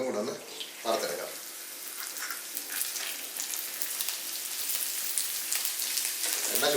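Urad dal crackles and sizzles in hot oil over a lowered flame, a steady close frying hiss with small pops.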